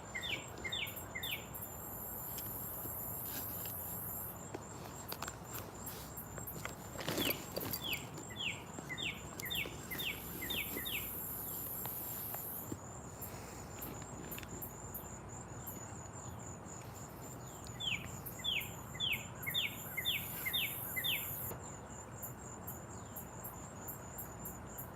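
Birds sing outdoors in a garden in repeated bursts of bright chirping, mixed with a steady insect or cricket drone and faint background noise, with no voices.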